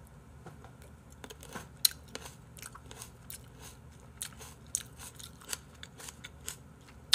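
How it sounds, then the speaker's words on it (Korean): Crisp, fibrous crunching of a raw tomato being bitten and chewed, sounding like green onion: a close, irregular series of sharp bites and crackles with no talking. "근데 왜 토마토 먹는데 대파 씹는 소리가 나냐?"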